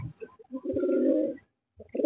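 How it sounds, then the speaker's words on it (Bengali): A Sapchila breeder male pigeon gives short clipped notes and then one sustained throaty coo, close and clear against a silent background, with a new call starting at the end. "এই যে সাপচিলা কবুতরটা"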